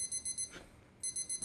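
Alarm clock ringing in a scene from the Korean film Midnight Runners, loud rapid beeping bursts that stop briefly and then start again, with no voices.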